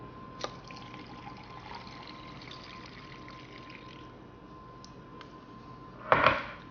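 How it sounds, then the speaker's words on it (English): Faint, steady boiling water pouring into a container of dehydrated pumpkin, low and close, ending with a brief louder splash. "you want to add 2 cups of boiling water."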